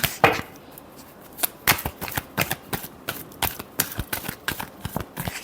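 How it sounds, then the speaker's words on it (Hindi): A deck of tarot cards being shuffled up close, rapid papery riffles and flicks in irregular bursts with short pauses between, moderately loud and without speech. "Last shuffle."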